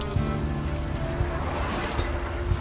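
Steady rain pours into a storm drain in the adventure game Unavowed, a dense continuous patter and splash with a low rumble beneath, loud and close throughout.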